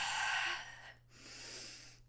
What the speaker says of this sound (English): all I can focus on is the heavy breathing after she says three words.